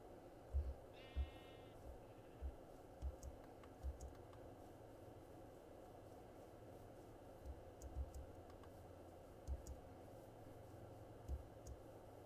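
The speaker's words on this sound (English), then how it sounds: "Huh, bunch of sheep." Sheep in a survival video game give one short bleat near the start, while faint, sparse key taps and clicks tick along at low volume throughout.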